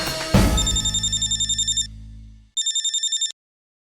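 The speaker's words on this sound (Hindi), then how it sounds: "अपने बेटी को फोन लगाओ" A telephone on speakerphone rings loudly in two electronic bursts, a pulsing trill that cuts off, pauses, then rings again, with a low hum under the first ring.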